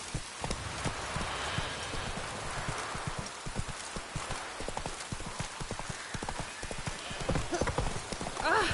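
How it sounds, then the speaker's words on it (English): Steady rain hisses through the streets in Witcher 3 gameplay, mixed with horse hooves clip-clopping on the ground and occasional spoken voices. "No use doing any work in this rain."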